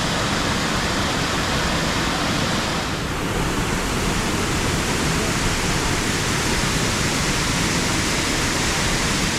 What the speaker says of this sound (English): Cool mist, rushing water, and the calm of a forest.